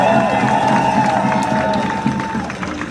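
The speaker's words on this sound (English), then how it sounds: "Give her a warm round of applause." A protest crowd at an outdoor march cheers and claps for the mayor, a loud, close mix of voices, shouts and scattered applause with overlapping chatter.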